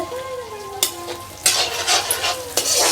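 Tomatoes and aubergine roasting in a pan, stirred with a utensil: a soft sizzle under several bright scraping and clinking stirs close up, with faint background noise and no clear speech.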